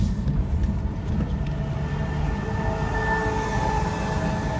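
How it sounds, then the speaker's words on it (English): A steady, loud rumble of a fast train in motion in France, with a continuous low roar and faint high whine throughout. "So it's a pretty fast train."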